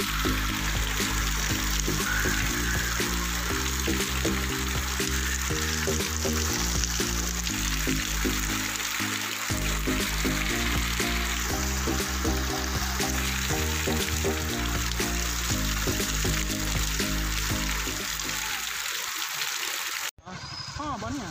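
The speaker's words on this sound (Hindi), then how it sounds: "झमाझम झमाझम बारिश भी हो रही है" Heavy rain pours down on a market street during lockdown, a dense steady hiss that runs almost unbroken for about twenty seconds, with droning low tones layered beneath before an abrupt cut near the end.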